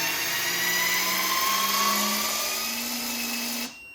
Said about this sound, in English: And now it will tighten it to 600 Newton meters.